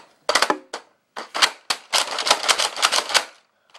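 A Nerf Rampage blaster is handled and loaded at close range, a run of sharp plastic clicks, slides and clacks in quick irregular bursts, with no talking.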